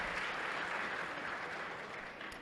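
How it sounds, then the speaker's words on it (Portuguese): A crowd at a solar energy industry meeting panel gives sustained applause for a speaker, a dense, even wash of clapping that tapers slightly at the end. "Uma salva de palmas para ele"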